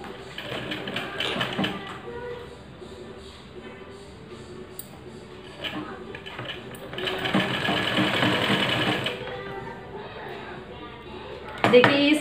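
Sewing machine stitching a baby face mask in bursts of rapid, steady needle clatter with short pauses between runs, close and clear, with someone talking over it.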